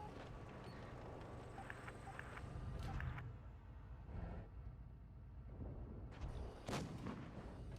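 Tank gun shots in World of Tanks Blitz, deep booming blasts with rumbling tails, one near the start and more around the middle and end, heard faintly.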